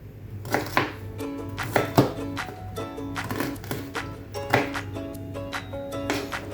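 A knife chops food into small pieces for ukoy with dried anchovies, sharp repeated board strikes in quick irregular bursts, close and loud, with no talk.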